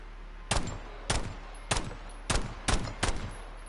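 Gunfire in the video game Call of Duty: Warzone, six loud sharp gunshots fired at a steady, roughly half-second rhythm, each with a brief decaying tail, with no talk over them.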